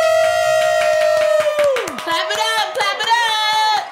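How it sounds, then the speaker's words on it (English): Audience clapping and cheering for a first guest on a casual talk show, a dense burst of applause with whoops under a sustained tonal sound, loud and close throughout. "Clap it up"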